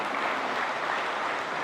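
A church congregation claps together in sustained, even applause that fills the room, with no voices on top.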